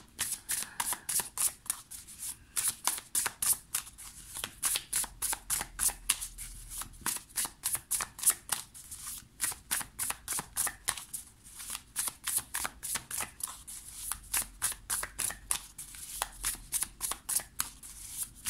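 Tarot cards are shuffled by hand for a nine-card spread, a close, crisp run of rapid riffling flutters repeating in steady bursts throughout with no talking.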